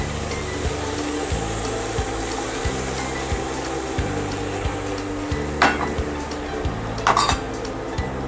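Green chilies and curry leaves drop into a pan for soya chunks masala, with a sizzle as metal utensils clink and scrape steadily against the pan, up close, and a few sharper clatters near the end.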